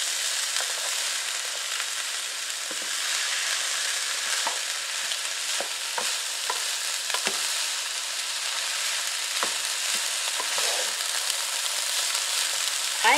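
Tricolor coleslaw mix of green and purple cabbage fries in a pan with a steady, even sizzle, broken by faint scattered pops and light stirring clicks.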